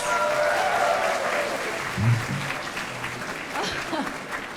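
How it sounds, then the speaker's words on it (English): Steady, dense clapping from an audience at a foundation day celebration carries on throughout, with faint voices underneath. "So your clapping is very hard, very motivated."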